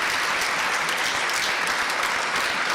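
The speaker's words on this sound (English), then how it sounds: "So yes, you're going to be clapping." Audience at a synagogue sanctuary gala applauding: dense, continuous clapping from a large crowd, steady and fairly loud for the whole stretch, with no speech over it.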